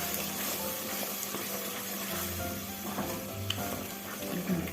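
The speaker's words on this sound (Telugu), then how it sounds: "ఫ్లేమ్ని లోలో పెట్టుకుని దాన్ని మిక్స్ చేసుకోండి." Curd is stirred in a pan over a low flame, a continuous soft sizzle and bubbling with a spoon scraping and swirling through it, close and steady without pause.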